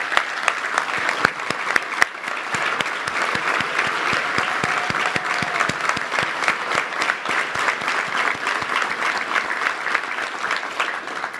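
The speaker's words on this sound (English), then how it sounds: "let's give them a round of applause for raising great young people." Loud, sustained applause from a large audience at a touchdown club luncheon honoring young people, dense clapping with sharp individual claps running steadily for over ten seconds.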